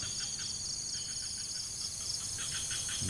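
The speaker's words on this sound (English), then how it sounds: "Birds are chirping away." In the jungle beside a river in Indonesia, steady high-pitched chirping repeats in quick pulsed bursts over a constant insect-like drone, at moderate distance, with no talking.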